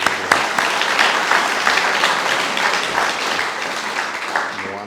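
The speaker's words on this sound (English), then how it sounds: "a round of applause for everyone." Audience at a science prize award ceremony claps in a dense, lively burst that starts strong, then gradually thins and fades toward the end.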